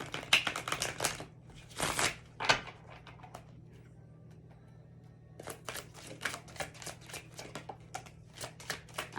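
A deck of tarot cards is shuffled in quick, soft riffling bursts with a pause in the middle, heard close and quiet in an otherwise still room.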